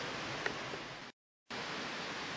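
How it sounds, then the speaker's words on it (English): Steady rushing roar of a waterfall heard from right at its base, continuous broadband water noise broken by a short gap of silence. "as you can hear, right at the base of the waterfall,"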